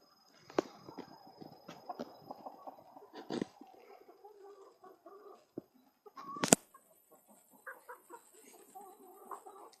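Chickens and a rooster move about in a backyard pen, with faint scattered clucks and soft scratching, a few sharp louder bursts of squawking breaking through the quiet.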